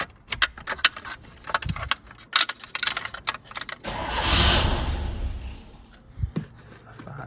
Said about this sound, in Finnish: pyöräytetään nyt vielä moottoria